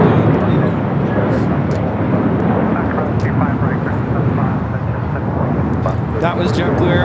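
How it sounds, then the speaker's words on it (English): A JetBlue Airbus A321 takes off in a loud, rumbling roar, with radio chatter and voices audible over the engine noise. "That was JetBlue Airways 424 taking off to JFK on an A321."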